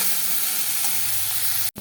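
Food sizzles in a frying pan in a home kitchen, a short burst of steady hissing sizzle that cuts off abruptly at the end.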